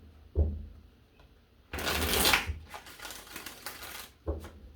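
Tarot cards are shuffled in a quick riffling burst, a papery flutter lasting a couple of seconds, with soft taps before and after.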